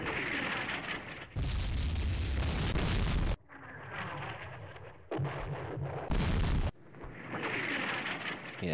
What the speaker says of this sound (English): See my barrages here.